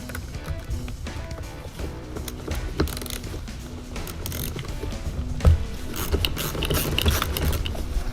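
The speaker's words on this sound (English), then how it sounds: "find the 10mm bolt and go ahead and disattach it" A ratchet backs out the 10mm positive battery terminal bolt on a Jeep Wrangler JKU, giving close, rapid clicking pawl ticks mixed with light metallic handling noises throughout.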